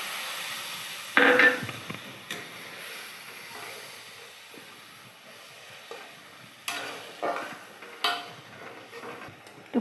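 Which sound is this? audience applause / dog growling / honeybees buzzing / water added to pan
water added to pan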